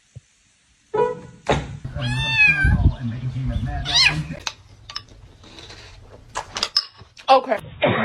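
A house cat meows several times up close, drawn-out and varied calls mixed with thumps and handling noises, with a person's voice also present.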